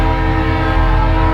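Train horn blaring loud and sustained as a train passes close by, a steady harmonic blast over rolling rail rumble, no voices.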